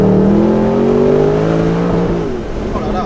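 Mercedes SLS AMG Roadster V8 pulling hard at full throttle, a loud climbing engine note that rises then drops off as it shifts, close by with a faint voice underneath.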